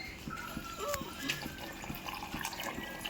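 Water poured from a glass into a pressure cooker while cooking a peas and potato curry in a home kitchen, a steady close splashing trickle for about three seconds with faint background noise.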